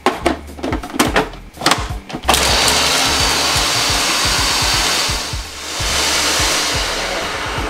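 A countertop blender whirs loudly and steadily, mixing vegan mug cake batter with a little stevia. It starts with a few short pulses, then runs continuously and dips briefly before settling back in.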